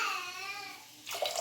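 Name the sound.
water being poured into curd rice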